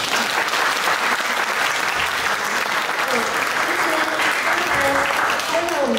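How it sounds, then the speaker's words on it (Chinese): Audience at a kindergarten Christmas party in Taipei's Wenshan district claps steadily for about six seconds. The dense, loud applause runs throughout, with a few faint voices underneath. "好，我们给他鼓掌。"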